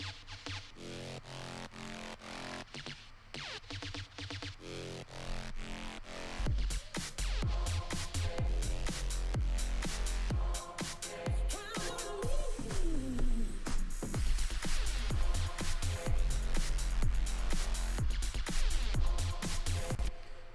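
An electronic remix drop processed with the Xfer OTT compressor plays alone: dense, heavily compressed synths over pounding deep bass hits, with a bright pitch sweep midway and no talk.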